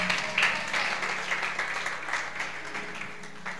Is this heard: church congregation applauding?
yes